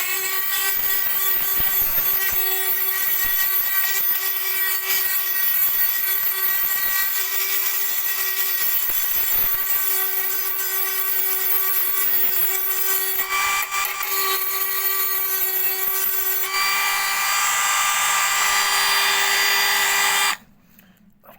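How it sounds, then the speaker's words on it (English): A Dremel rotary tool grinds corrosion off the metal case of a Webasto heater with a continuous high-pitched whine, close and steady for about twenty seconds, its pitch shifting slightly under load before stopping abruptly. "So what I'm doing is I'm just running a Dremel"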